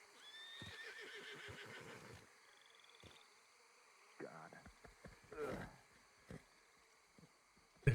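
A horse in a video game gives one whinny, then a few snorts and short bursts follow. The sound is quiet against a soft background.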